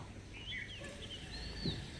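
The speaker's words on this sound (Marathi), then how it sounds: "हे बघा काय आहे कोंबडा" Faint, distant rooster crowing in the morning, heard from a third-floor balcony over a quiet outdoor background, with a few soft calls drifting in and out.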